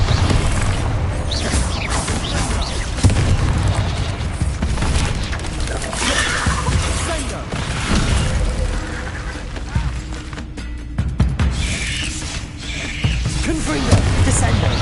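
Spell explosions from Confringo and Bombarda blasts in the Hogwarts Legacy video game, a dense, continuous barrage of booms and crashes filling the whole stretch, loud and close with clattering debris and mechanical creaks mixed in.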